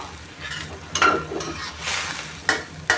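Catfish and eggplant stir-fried in a pan for a Thai spicy pad cha dish, giving a steady close sizzle broken by a few sharp scrapes and knocks of the spatula.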